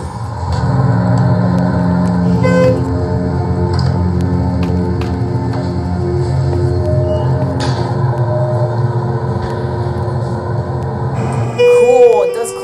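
Schindler HT elevator motor running in a tall hotel elevator, giving a steady, loud hum with sustained tonal drone and faint clicks, ending in a chime-like ripple as the car levels.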